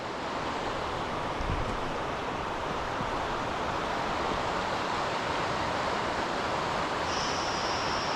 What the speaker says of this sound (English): Man, that is some fast moving water.